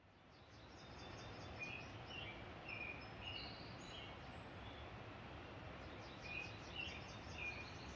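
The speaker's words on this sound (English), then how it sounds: "I wake up to the sound of birds greeting the day after the rainstorm had passed." Birds chirp faintly at dawn after a rainstorm on the Appalachian Trail, small scattered high calls over a steady broad hiss of ambient noise, distant and quiet throughout.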